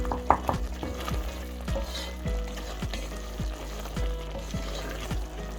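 Chicken korma ingredients fry and sizzle in a pan, with steady crackling and repeated stirring scrapes at a regular rhythm, close and moderately loud with no talking.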